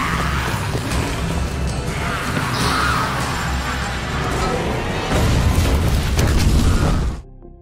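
An explosion in a zombie film rolls out as a dense, loud, sustained roar with crashing debris, swelling near the end before cutting off abruptly.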